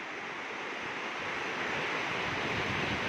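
Heavy rain-fed floodwater rushes under a village bridge in Maharashtra, a steady, loud, broadband roar that holds constant for the whole stretch with no break and no voices.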